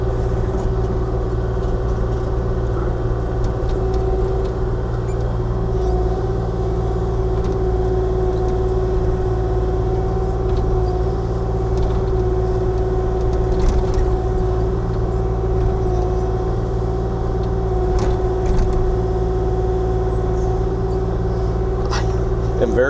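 A Kubota KX040-4 compact excavator works on an ATV path, its diesel engine holding a steady, loud drone throughout, with occasional faint clanks and scrapes over the continuous hum.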